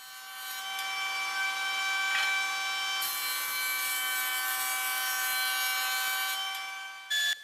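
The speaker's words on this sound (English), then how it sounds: "So I'm going to pass all the boards through here, get a flat face to work with first and reference off of." A jointer flattens the face of wooden boards for a buffet, a loud spinning cutterhead whine with a chattering cut as a board feeds through, then a brief clunk at the end.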